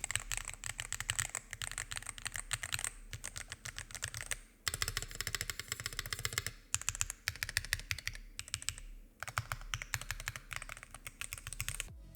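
Rapid typing on an MCHOSE ACE 68 Turbo mechanical keyboard with PBT keycaps, close and fairly loud clacks in bursts with short pauses between them, no voices.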